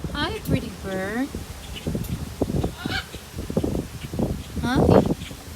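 A macaw parrot at a plant nursery gives a few loud, harsh squawks between stretches of a person's nearby talk, with outdoor rustling behind.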